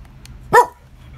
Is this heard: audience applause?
no